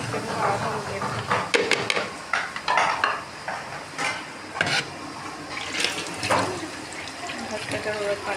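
Water goes into a blender jar of spices for grinding while channa masala is prepared, giving splashy pouring and sloshing sounds broken by light clinks of kitchenware at close range.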